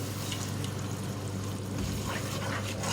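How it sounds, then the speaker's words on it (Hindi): Blended puree of one medium tomato poured into a pot of spice-fried masala for aloo yakhni pulao, a steady soft liquid pour with faint sizzling throughout. "1 मीडियम साइज़ का टमाटर है, इसको मैंने ब्लेंड कर लिया है, ये डालूंगी इसमें।"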